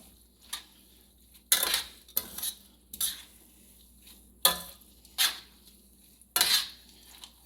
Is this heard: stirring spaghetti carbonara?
yes